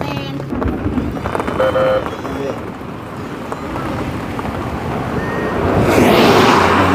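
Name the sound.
rain falling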